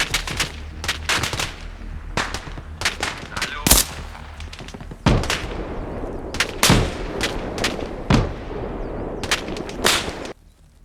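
Sharp gunshots crack out in the video game Arma Reforger, some single and some in quick bursts, loud and close, with a brief voice between them.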